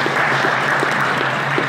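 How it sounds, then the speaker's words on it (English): Steady, dense applause fills the room from an audience gathered on a freezing cold night in Saskatchewan, a continuous wash of clapping at close range with no voices on top. "let's get a round of applause for yourselves for coming out"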